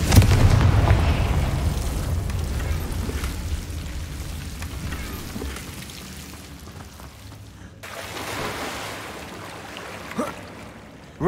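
A blasting spell cast in the Hogwarts Legacy video game, a loud booming explosion at the start that rumbles and fades over several seconds, with a second smaller burst later and a sharp pop near the end.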